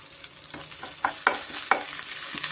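Green chili and grated ginger frying in a pan for a vegetable paddu breakfast, a steady close sizzle broken by several sharp spatula scrapes and stirs, with no voices.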